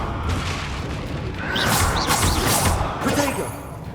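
A Confringo fire spell blasts out in Hogwarts Legacy, a loud booming burst with crackling bright noise swelling through the middle, layered over dense game combat sounds and music.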